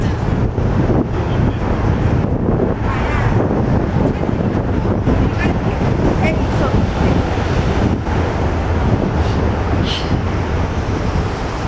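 Strong wind buffets the microphone outdoors in Hong Kong in a steady, roaring rush, with surf-like gusts and a faint voice underneath.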